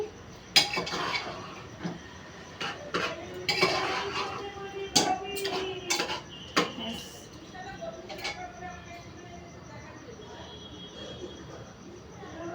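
Metal utensils clink and knock against a pressure cooker while dal is stirred in it: irregular sharp clanks and scrapes, some loud and close, spread across a quiet kitchen background.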